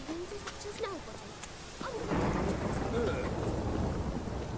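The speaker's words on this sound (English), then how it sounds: "It just rains." Steady rain with rolling thunder in The Witcher 3 video game, starting as a quieter stretch with a few chirping tones and then swelling into loud, continuous rainfall for the rest of the clip.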